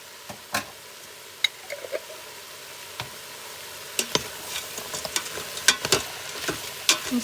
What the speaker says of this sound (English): I'm going to go ahead and add in the frozen broccoli that I had. Let that start to cook up a little bit.